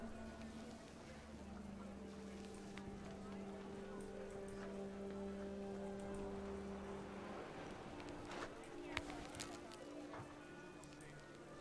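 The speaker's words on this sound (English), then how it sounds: "The rain came down in buckets then" Heavy rain pours steadily in the video game What Remains of Edith Finch, a dense hiss sitting under calm narration with background music tones throughout.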